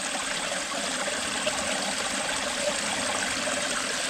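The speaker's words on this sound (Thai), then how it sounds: "จะน้ำไหลเลย" Flowing water gives a steady, broad rushing hiss that stays even throughout, with no voices.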